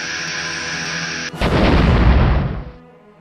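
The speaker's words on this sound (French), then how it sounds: "De l'artillerie lourde positionnée aux environs de Veuilly-sur-Aisne tire sur le site et fait taire pour un moment le canon." Heavy artillery firing on a First World War gun site near Veuilly-sur-Aisne, 1918: one huge blast rolls out as a dense, loud rumble that swells and then fades over about a second and a half.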